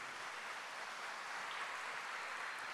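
A church congregation applauds in a steady, unbroken wash of clapping that stays faint and even throughout, with no voices over it.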